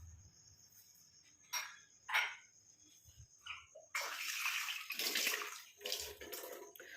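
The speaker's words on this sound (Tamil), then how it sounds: "ஒரு அரை டம்ளர் அளவுக்கு நம்ம தண்ணியை வந்து சேர்த்துக்கலாம்" After a few quiet bumps, about half a tumbler of water gushes steadily into a blender jar for several seconds, a close, splashing pour.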